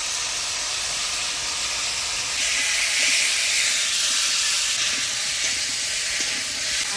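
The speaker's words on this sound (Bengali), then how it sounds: "আদা জিরা লঙ্কা বাটা দিয়ে কুয়াশার সাথে নাড়াচাড়া করে নিলাম" A ginger, cumin and green chilli paste fries with squash in hot oil, giving a steady, loud broadband sizzling hiss that grows slightly stronger midway and continues without speech.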